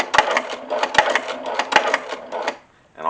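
Sewing machine stitching an alligator hide phone case in quick rhythmic bursts of needle clatter, with short pauses between runs and a brief stop near the end.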